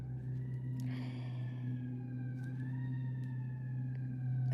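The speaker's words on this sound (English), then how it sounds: "there's so much going on outside. There's sirens and everything." Emergency vehicle sirens wail outside, a steady rising and falling tone heard at a distance over a constant low hum, with no voices.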